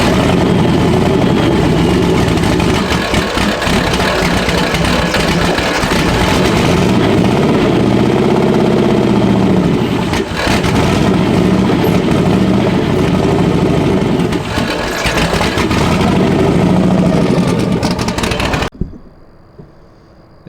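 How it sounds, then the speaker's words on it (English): A turbocharged 4.6 V8 drag car idles roughly at close range, its loud, deep rumble surging and wavering as the throttle is held up, before cutting out near the end. "you're just going to have to kind of keep it idled up with your foot"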